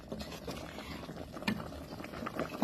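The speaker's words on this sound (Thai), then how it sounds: "ตามด้วยไก่ที่หั่นนะคะ ต้มเนื้อไก่ซุปเนี่ยค่ะ" Chopped chicken simmers in a pot of soup with carrots, potatoes and greens, giving a soft, steady bubbling with small pops and clicks, fairly quiet and close.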